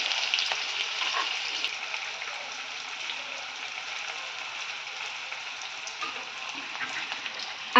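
Curry leaves and chopped onion fry in hot oil in a pan, making a steady close sizzle with faint crackles, cooked for sevaga sukha.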